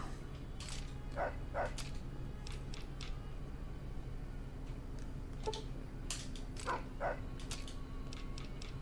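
Dogs bark in Fallout: New Vegas, scattered short yips and woofs in small bursts over a steady low background hum, moderately distant and without talk.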